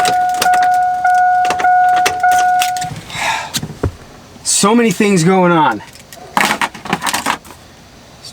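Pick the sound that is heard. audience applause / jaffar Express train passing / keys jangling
keys jangling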